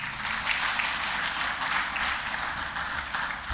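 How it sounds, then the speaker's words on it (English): Steady broadband applause from an audience at an anniversary celebration, dense and continuous throughout, moderately loud with no talk over it. "I think we should give them a big round of applause"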